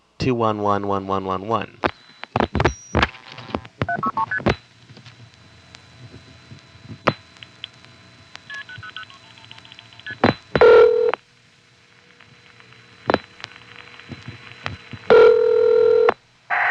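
Touch-tone dialing on a 1974 long-distance phone line in Wellfleet, Massachusetts: a fast run of DTMF tones, then clicks, line tones and short beeps, with a voice briefly present on the line.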